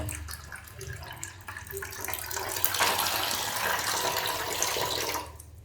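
Water poured from a container down a drain to test a flake-type drain cleaner, a continuous splashing gurgle close by that swells in the middle and tapers off at the end.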